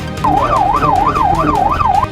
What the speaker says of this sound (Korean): 소방차가 사이렌을 울리며 긴급 출동하는데도